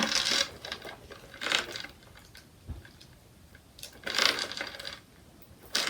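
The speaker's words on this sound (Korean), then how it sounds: "체인을 껴주면은 크로스로도 쓸 수 있어요." A metal chain strap clinks and rattles in short bursts as it is fitted onto a small Disney Princess handbag, with brief metallic jingles separated by quiet pauses and close handling.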